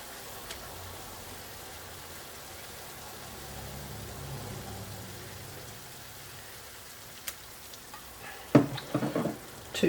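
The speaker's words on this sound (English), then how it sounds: "Your bitter melon has had a few minutes to cook." Bitter melon frying in a pan gives a faint, steady sizzle at a distance, with a few sharp clatters and louder handling noises near the end, and no talking.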